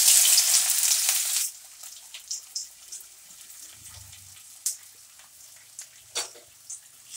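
Chopped onion hits hot mustard oil in a kadai with a loud burst of sizzling that quickly drops to a faint crackle, followed by scattered soft pops and light clinks, close by, with no talking.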